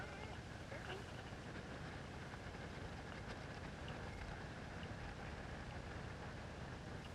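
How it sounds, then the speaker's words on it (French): Wind blows across a high-altitude plateau at 4,800 metres in Bolivia, a faint, steady broadband rush that continues without a break. "Il y a du vent."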